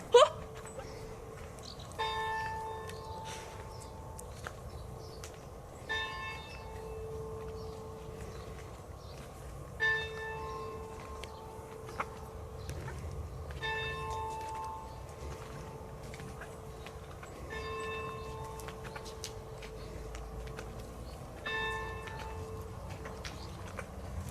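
Church bells ring out at a distance in a slow, regular pattern in the Dutch village of Drimmelen, each strike lingering with a faint hum, over quiet outdoor background with occasional soft knocks.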